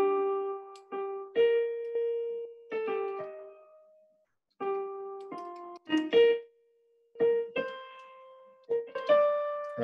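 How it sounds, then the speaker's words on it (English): Siegfried leitmotif from Wagner's Ring Cycle played as a clear, brassy melodic line of separate held notes and short phrases, with brief gaps between them, at moderate volume and without voices. "this melody is strikingly reminiscent of one of the leading motives from Wagner's Ring Cycle"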